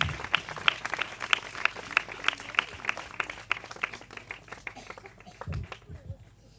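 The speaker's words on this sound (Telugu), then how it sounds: "చప్పట్లు కొడుతూ ఆహ్వానం తెలియజేద్దాం" An audience at a gospel meeting claps to welcome Reverend John Wesly, giving steady, rhythmic, close applause that thins out and fades near the end.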